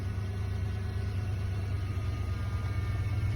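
A 1993 Ford F-150 engine idles steadily, with a low, even rumble and pulsing throughout and no talk.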